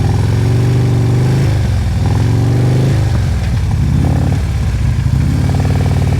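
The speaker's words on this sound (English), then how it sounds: "You hear his RPMs going up and down, because he's recognizing when it's low and then he's adjusting." Motorcycle engine during slow-speed riding practice, revs rising and falling repeatedly as the throttle is worked, a steady close mid-pitched engine drone with rhythmic surges and no voices.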